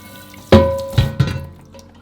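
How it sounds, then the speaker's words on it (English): Rusty cast iron pan rinsed with water, three sharp splashing bursts of water striking the metal, the first loudest, each fading quickly in a quiet space. "Give it a good rinse."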